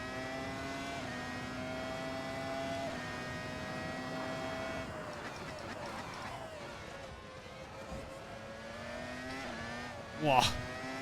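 1999 Formula 1 race cars in the Assetto Corsa racing game howl at high revs, their engine tones rising and falling through gear changes as several cars race close together, with a brief sharp burst near the end.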